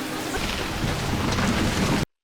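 Heavy rain with rumbling thunder from a storm scene in the TV show Lost, a steady dense wash of sound that ends abruptly after about two seconds, with no talk.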